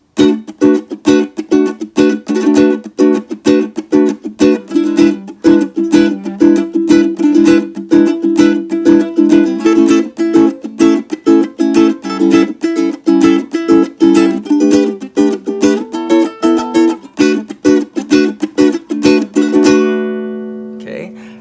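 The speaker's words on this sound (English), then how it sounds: "with the muting technique on my left hand, the strum sounds like this" Ukulele playing a song with a left-hand muting technique, giving a steady run of short, choppy, damped strums, close and loud, with the last chord ringing out briefly at the end.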